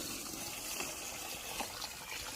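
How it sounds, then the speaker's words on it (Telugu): Measured water poured into a pot of mushroom biryani with green peas, a soft, faint continuous gush. "కొలత నీళ్ళు పోసుకున్నాం"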